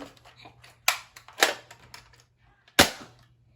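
An Adventure Force Hyperspin rotating, double-fire toy blaster fires three loud, sharp snaps with gaps between them, set against softer clicks and handling noise and a faint low hum, all close by.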